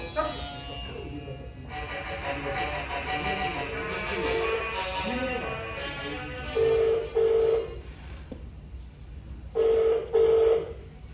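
A telephone connects over a hum of background noise, followed by several short electronic ring tones sounding in pairs near the end.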